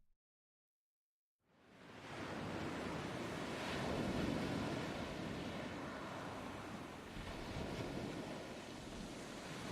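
Ocean waves wash onto a shore in a steady, full, bass-heavy roar that rises out of silence after a brief pause and keeps rolling, with wind mixed in and no voices.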